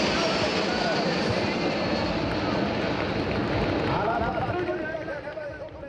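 Patrulla Águila aerobatic display jets flying over an air show at sunset, a steady loud engine roar sweeping past and easing slightly toward the end.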